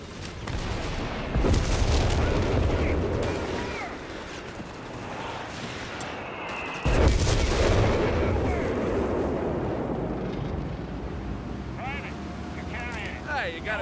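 A US artillery barrage pounds away in the Company of Heroes 3 video game, with heavy booming impacts, one sharp strike midway, and rolling rumble throughout, while soldiers' voices call out over the shelling.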